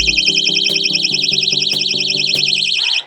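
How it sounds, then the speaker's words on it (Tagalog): A small personal safety alarm with an LED light sounds loud and close: a piercing warbling electronic siren with rapid pulsing, continuous for about three seconds before it stops abruptly. "Alarm and LED light. So, how do you do the alarm?"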